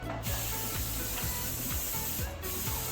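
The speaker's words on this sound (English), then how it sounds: "coat it with a little cooking spray" A steady hissing spray of cooking spray onto a pan close by, continuous for a few seconds with faint rhythmic rubbing or clicking underneath.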